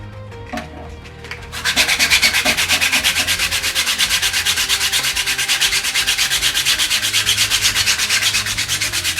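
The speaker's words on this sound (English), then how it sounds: "This is 80 grit sandpaper, so this is rougher than your mum, and this will take that, all those little knobbly bits right back" A 3D printed plastic sword is sanded with coarse 80 grit sandpaper after a few light knocks, the loud rasping strokes settling into a steady, rhythmic back-and-forth scrub that fills the rest.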